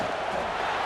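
A stadium crowd roars in a continuous, dense wash of cheering during a college football video game, heard alone for a brief moment.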